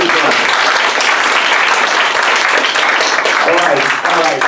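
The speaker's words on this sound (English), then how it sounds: "Give him a round of applause." An audience at a free speech summit bursts into loud, dense applause that runs steadily throughout, with a voice speaking faintly over the clapping near the end.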